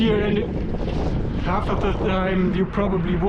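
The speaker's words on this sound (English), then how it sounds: "it's very windy still" Gusty wind roars against the microphone throughout a bicycle ride, nearly drowning out a person speaking underneath.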